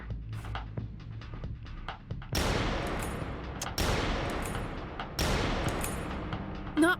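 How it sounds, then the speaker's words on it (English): Gunshots ring out in the Kathy Rain 2 game: after a few faint clicks, three loud, sharp blasts come at spaced intervals, each trailing off in a long echoing decay. "God, were those shots?"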